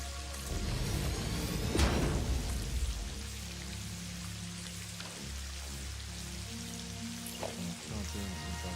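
Video game rain patters steadily over a low, droning background, with a few soft whooshes and faint distant rumbles rising now and then.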